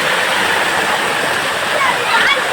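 Kayilai waterfall at Thazhampoo Aruvi roars as a steady, close, full rush of falling water through the whole stretch, with a voice briefly audible over it.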